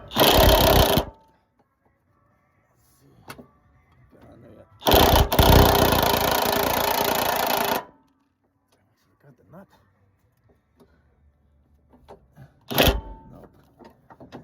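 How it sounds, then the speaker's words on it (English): An impact wrench working on the body lift bolts of a Hummer H1 in a cramped spot fires in a short burst, a longer sustained rattle of several seconds, then another brief burst, with quiet gaps between. "impact wrench."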